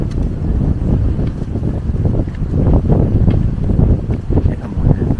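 Strong wind roars and buffets the microphone continuously at a beach in Catanduanes, with gusty rumbling surges and no clear speech.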